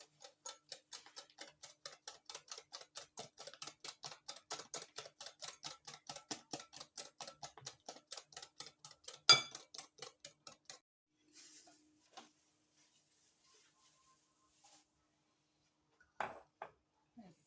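Banana cake batter with a cup of sugar is mixed by hand, producing about ten seconds of rapid, steady clicking of a utensil against the bowl, close and distinct, followed by near silence with a few stray knocks.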